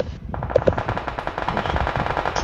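Gunfire in a battle royale video game: a rapid automatic burst that runs steadily for a couple of seconds, loud and dense, with no talk over it.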